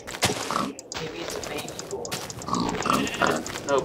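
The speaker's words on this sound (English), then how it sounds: "No, boars are supposed to attack you" Boar grunting in the Minecraft Technic modpack, short animal grunts over game sounds with someone talking throughout.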